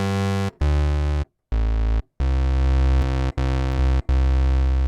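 A Serum software synthesizer playing sustained notes with its sub oscillator added for extra low end, a buzzy, harmonically rich tone in several separate held notes with short gaps, loud and clean with no talk.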